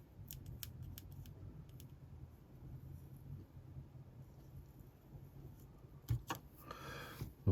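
Scissors trim ribbon on a paper craft booklet, a few quick crisp snips near the end over soft, faint background rustle and handling noise.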